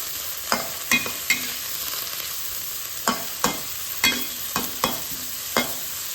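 Cabbage stir-fried with shrimp in a pan, a constant hissing sizzle cut by about ten sharp scraping strokes of a spatula spaced irregularly, close and loud with no voices.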